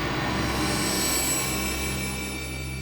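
A mobile phone rings loudly and continuously indoors in a room under investigation, a steady electronic ringtone with sustained tones and no talking.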